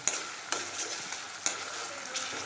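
Chickpea and cowpea usal with tomato, onion and masala frying in a pan, a steady soft sizzle broken by a few sharp stirring scrapes, close and alone.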